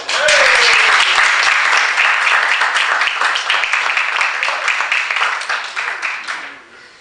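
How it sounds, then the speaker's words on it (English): Loud, full applause from an audience at a student midterm presentation session, welcoming a presenter and continuing strongly for several seconds before fading out near the end. "please give an applause to Michael Augustin"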